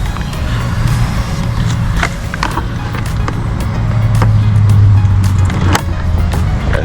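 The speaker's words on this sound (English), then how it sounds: "It sound like a diesel truck." A diesel truck passes outside a house under renovation, its engine rumbling steadily and swelling louder midway, with scattered sharp knocks and clatter nearby.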